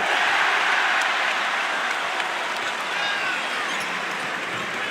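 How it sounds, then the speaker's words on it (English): A packed arena crowd at a Minnesota versus Purdue college basketball game cheers and applauds loudly and continuously, a dense roar with commentary voices underneath. "This crowd re-energized."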